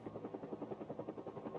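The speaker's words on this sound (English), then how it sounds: "And there is a chopper." A helicopter in the video game Project Zomboid passes overhead, its rotor chopping in a fast, even rhythm at moderate distance, steady and alone with no talk.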